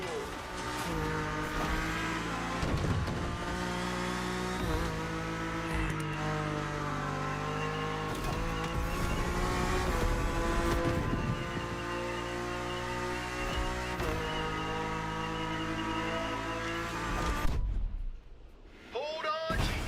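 A BMW M4 race car in Crew Motorfest roars with a sustained revving engine, pitch climbing and shifting through gears with music-like tonal layers, before a brief drop and sudden cut near the end.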